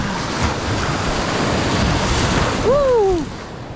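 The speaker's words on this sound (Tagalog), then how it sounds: "dito kami ngayon sa basagan ng alon" Steady broadband rush of surf breaking and washing along the shore at a fishing spot, with wind noise; a brief whistling tone rises near the end.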